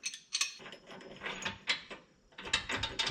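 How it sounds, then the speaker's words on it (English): A breaker bar with a 22mm socket works tight differential bolts loose on a Toyota FJ Cruiser or 4Runner, giving close metallic ratcheting clicks and clunks in several short bursts separated by brief pauses. "we're going to twist on the bottom with our breaker bar here and the 22mm socket on there"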